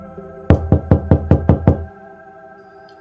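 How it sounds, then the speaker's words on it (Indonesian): A sequence of seven evenly spaced knocks on a door, sharp and fairly close. The knocks come in a steady rhythm and then stop, leaving a short quiet stretch. "Sumiati mengetuk pintu."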